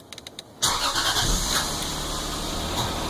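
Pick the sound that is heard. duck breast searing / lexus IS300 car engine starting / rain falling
lexus IS300 car engine starting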